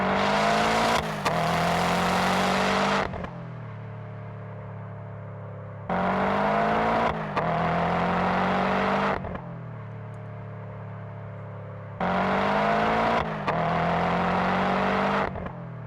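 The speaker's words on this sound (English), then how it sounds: "We definitely don't want the road noise coming through at all" Road noise inside a moving car comes in loud bursts of broad rumbling whoosh, each a few seconds long and separated by quieter stretches where only a low engine hum remains; no voices.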